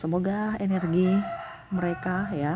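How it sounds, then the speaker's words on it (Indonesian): A neighbour's rooster crows nearby in repeated drawn-out calls, with someone talking over and between the crows. "ribut ya, ayam berkokok ya,"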